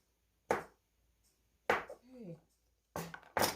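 A knife chops zucchini on a cutting board in a home kitchen, giving three or four sharp, separate strikes, with brief quiet talking between the cuts.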